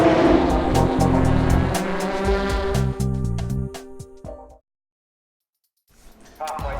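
Formula Ford race cars at Sydney Motorsport Park during the Avon Formula Ford Series, engines droning loud and close with a voice over them, then cutting to silence before engine noise returns faintly at the end.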